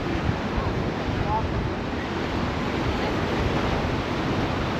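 Steady roar of surf rolling onto a long beach, mixed with wind buffeting the microphone, loud and continuous with no distinct breaks.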